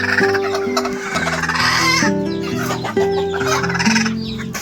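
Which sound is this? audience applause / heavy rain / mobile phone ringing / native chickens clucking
native chickens clucking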